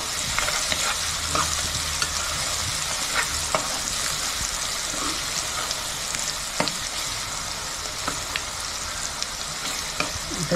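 Onion sautéing in hot oil with red chili powder and turmeric for a homemade chicken gravy, giving a continuous close sizzle broken by occasional stirring scrapes against the pan, with no talking.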